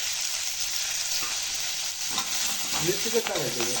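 Peas frying in a pan for samosa filling, with a constant close sizzle and occasional stirring scrapes that grow busier toward the end, where a faint voice briefly joins.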